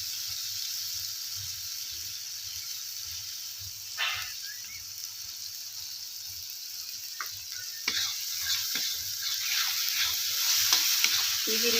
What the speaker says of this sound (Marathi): मिरच्याची चटणी आपल्याला चांगली अशी भाजून घ्यायची